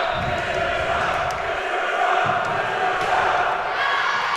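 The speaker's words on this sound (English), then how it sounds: "The student section cheering because they believe that their chant, whatever that was, had something to do with that slip up on the serve" A high school student section cheers and chants in a gym during a volleyball game, a steady loud roar of crowd noise with overlapping voices.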